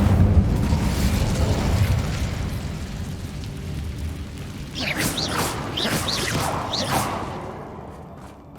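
An Incendio fire spell goes off in Hogwarts Legacy: after a dull rumbling background, a cluster of quick bursting whooshes and crackling pops flares up for a couple of seconds, then fades.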